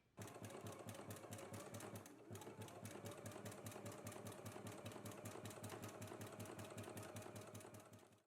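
A sewing machine zigzag-stitches the side seams of a jersey toddler garment, running loud and close in a fast, steady mechanical rhythm for about eight seconds with one brief slowdown near the start.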